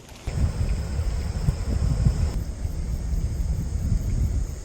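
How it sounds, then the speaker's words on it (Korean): Strong, gusty wind at a lakeside freshwater fishing spot with water chestnut weeds, a steady loud rumbling roar buffeting the microphone throughout, with no talk. "이제 대필 나가니까 바람이 막 태풍이 부네."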